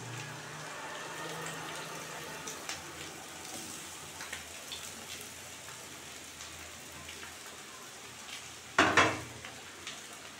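Chicken chow mein noodles stir-fry in a wok on a gas flame, giving a quiet, steady sizzle with soft scraping stirs and a brief louder clatter of the pan being moved near the end.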